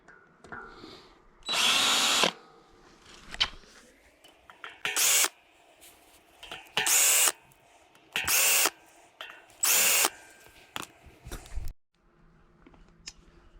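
A power driver spins out the rotor bolts holding old brake discs on a GT Avalanche bicycle wheel, firing in several short whirring bursts between quiet handling clicks.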